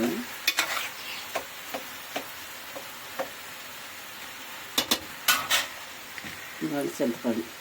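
Tomatoes cooking in a pan with a soft background sizzle, broken by sporadic close clinks and scrapes of a spoon stirring against the pan.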